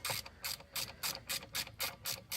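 A ratchet wrench clicks as it loosens the exhaust bolt at the mounting on a scooter fitted with a Bidalot SR1 or SR3 pipe, a quick run of about eight even, crisp ratcheting bursts close by.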